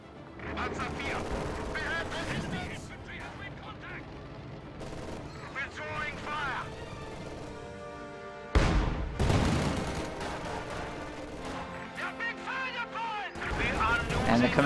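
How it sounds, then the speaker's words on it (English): ML-20 howitzer fire in a Company of Heroes–style multiplayer strategy match, with heavy booms and sustained battle noise of gunfire and explosions throughout, a loud blast marking a shift partway through, mixed under game audio and music. "ML-20 is firing at the command tank, I think"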